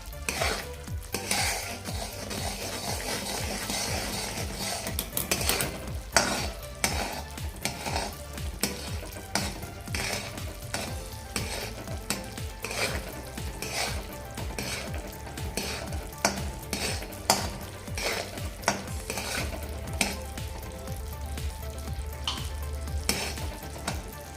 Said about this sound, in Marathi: आपण परत दोन तीन मिनटं आपण हे असंच हटवत राहूया